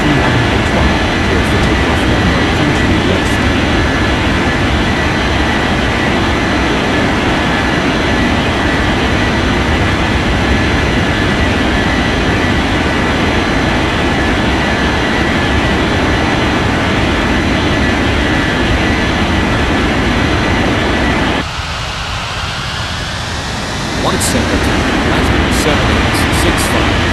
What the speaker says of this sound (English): China Southern 320 cleared for takeoff runway 32 left.